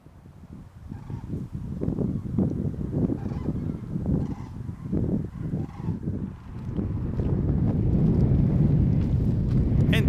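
A large autumn flock of cranes in Finland, numbering in the thousands, calls as a continuous distant chorus of honking trumpeting over gusty wind noise, swelling louder toward the end.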